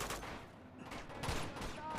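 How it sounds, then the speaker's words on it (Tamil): Rapid bursts of gunfire in Uncharted 2: Among Thieves, dense and continuous, with clattering shots layered over a noisy backdrop. "இத்தனை சுடுறேன், சாவ மாட்டுறாங்க"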